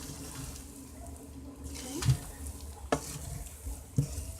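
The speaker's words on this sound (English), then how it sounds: "we're just gonna give it a stir" A spoon stirs corned beef jollof rice in a cooking pot, giving a few soft scraping strokes and knocks against the pot over a low simmering sizzle, quiet and close with no talk.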